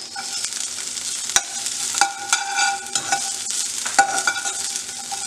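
Onion sizzling in a hot pan over high heat while making honey chilli potatoes, with constant frying hiss and frequent scraping, clattering stirs of a spoon.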